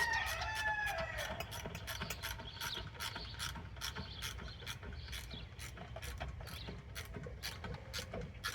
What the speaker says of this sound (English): Tighten down our top bolts here in the head.